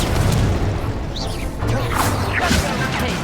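Spell explosions in a Harry Potter video game: booming blasts and mechanical clatter fill a dense, continuous mix of game effects, loud throughout with a brief dip in the middle.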